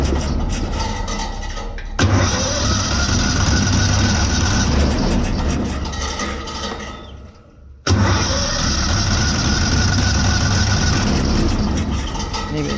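Straw blower's small engine, with the choke on and a history of slow starting, catches and runs loud and close with a raspy drone, cuts out briefly, then restarts and keeps running.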